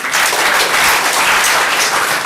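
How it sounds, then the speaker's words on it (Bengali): An auditorium audience at a university Rag Day event claps for a speaker, producing a dense, even wash of applause heard alone for a couple of seconds. "স্যারের জন্য করতালি।"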